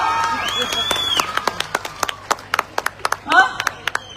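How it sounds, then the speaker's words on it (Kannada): Audience at a public talk on women's rights clapping, scattered sharp individual claps that build into a brief burst of applause, with a voice speaking over the start. "ಹೆಣ್ಮಕ್ಳಾದ್ರೂ ಹೊಡಿರಪ್ಪ ಚಪ್ಪಾಳೆ"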